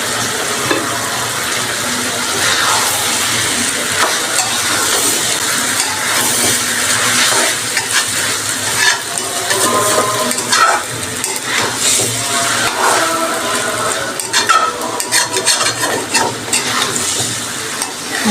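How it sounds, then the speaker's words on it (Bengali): Minced beef frying in oil with spices for a Bangladeshi chhecha beef dish, a steady loud sizzle with stirring and scraping of a utensil against the pan throughout. "এখন আমি ছেঁচা মাংসটা দিয়ে দিচ্ছি।"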